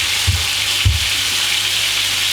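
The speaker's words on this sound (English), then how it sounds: "Just going to flip the fish over. So nice and crispy." Fish fries in a hot pan with crispy skin, giving a loud, constant hiss of spitting oil with two soft low thumps from the pan or the turning fish, close up and without speech.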